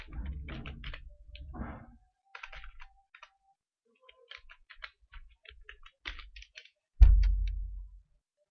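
Typing an email address on a computer keyboard: bursts of close, light key clicks in short irregular runs with pauses, and a heavier thump near the end.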